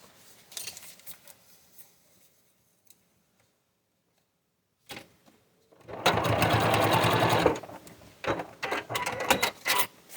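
Sewing machine restitching a short seam: a few faint clicks and taps, then a loud burst of rapid needle whirring for about a second and a half, followed by scattered handling clicks.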